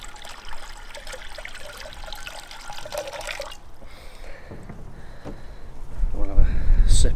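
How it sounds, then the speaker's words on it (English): Hot water pours and trickles into a washing bowl for a wet shave, a steady running stream that fades, then louder splashing toward the end. "So I need to put some, this is hot water."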